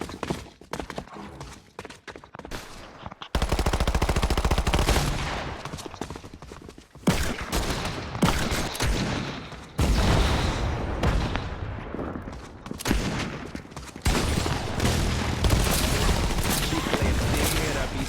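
Video game gunfire in a 1v1 match, loud dense bursts of rapid shots running almost continuously, mixed with music and heavy effects.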